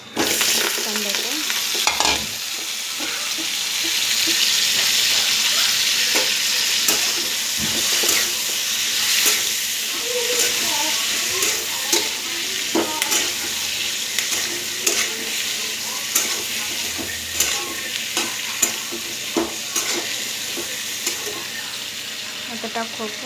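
Eggplant, tomato, turmeric and curry leaves frying in a pan give a steady close sizzle while a spoon stirs and scrapes with frequent clicking knocks against the metal, with no talk.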